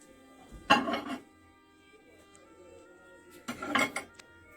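Ceramic cups of tea are set into a microwave oven, producing two distinct clattering knocks of crockery against the oven a few seconds apart, close by in an otherwise quiet kitchen.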